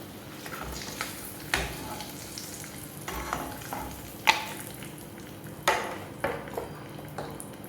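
Eggs frying in a pan with salt and chilli powder, a constant close sizzle broken by occasional spatula scrapes and metallic taps against the pan, moderately loud and without voices.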